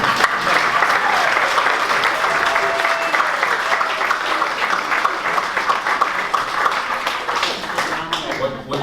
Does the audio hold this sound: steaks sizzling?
no